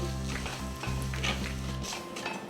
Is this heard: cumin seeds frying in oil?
yes